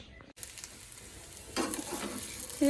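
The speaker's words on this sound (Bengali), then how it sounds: "চলো আমি তাড়াতাড়ি পেঁয়াজ আর গাজরটা ভাজা করে নিই" Chopped onion and carrot fry in a pan for chowmein, giving a steady close sizzle with stirring scrapes that grows louder and busier partway through, with no voices.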